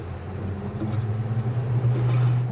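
A Cranchi E26 Rider motorboat with a 350 hp Mercury outboard on windy Lake Como, its engine giving a steady low drone that swells slightly, with wind and water noise over it.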